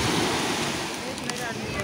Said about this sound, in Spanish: mirad qué pedazo de olas que hay aquí